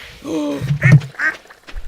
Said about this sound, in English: What the hell are you doing out here, duck?